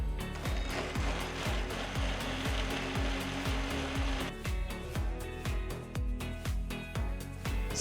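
A mixer grinder whirs steadily while pureeing cooked, cooled tomatoes in its jar, a loud continuous motor drone with a rhythmic pulsing churn that grows slightly rougher and more clattery partway through.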